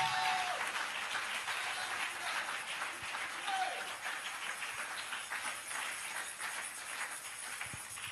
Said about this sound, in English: clap your hands in the house of God